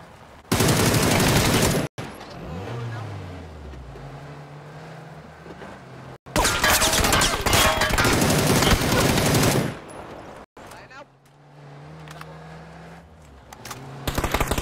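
Loud, sustained automatic gunfire in a video game comes in long, close bursts, separated by quieter stretches of engine hum from a vehicle.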